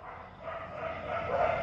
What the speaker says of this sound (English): these dogs are so noisy